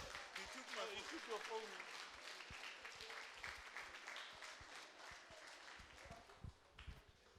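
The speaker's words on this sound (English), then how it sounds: "let's give him another round of applause" Audience applause at a 50th anniversary Onkgopotse Tiro memorial lecture, sustained clapping from a seated crowd, steady and fairly dense, heard at a distance and rather faint.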